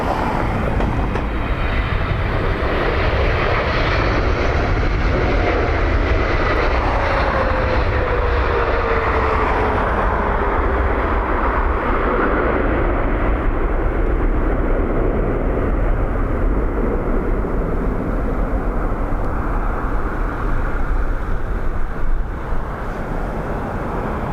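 Airliner arriving at Dublin Airport in gusty, windy weather, a loud continuous engine roar with a faint descending whine, sustained and close, under wind noise with no talk.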